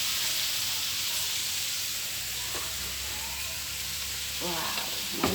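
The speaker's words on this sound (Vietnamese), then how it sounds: "Mình xào mấy cái này vô hết ăn cho nó hòa quyện vào nhau cho nó thơm, cho nó ngon." Cooked rice is stir-fried with other ingredients in a pan, making a continuous loud sizzle and hiss with a few stirring scrapes, close up and with no talking.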